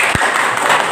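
Classroom applause from students, a brief burst of dense clapping lasting under a second, close and loud.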